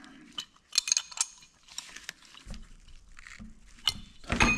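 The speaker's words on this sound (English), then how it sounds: "7/16 wrench." A 7/16 wrench tightens a nut on a Marvel Schebler TSX 688 carburetor fitted to a John Deere 430 two-cylinder tractor, giving close, scattered metallic clicks and ratcheting scrapes in short irregular bursts.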